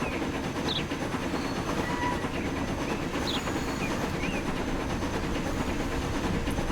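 A train in the Transport Fever 2 video game rumbles along with a steady low roll and faint rail noise, slowly gathering speed, continuous and moderately quiet.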